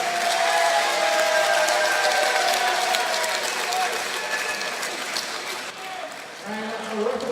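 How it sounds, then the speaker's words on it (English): A crowd at a combat-sports fight show applauds both fighters after a bout. The clapping is broad and steady and lasts several seconds, with an announcer's voice talking over it. "Referee Coach Tigers in a round of applause for both fighters for a fighting contest."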